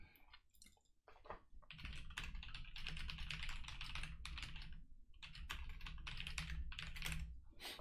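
Fast, steady typing on a computer keyboard with dense clicking keystrokes, close and fairly loud, running almost without pause apart from a brief lull near the start.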